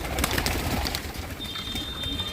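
Pigeons coo softly amid a constant outdoor bustle while being fed grain, with scattered faint calls and a brief wing flutter; no talking.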